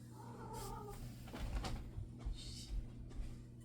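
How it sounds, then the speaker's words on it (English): A cat inside a quiet apartment makes short, strained meowing and caterwauling cries over a steady low household hum. "The cat is driving me crazy."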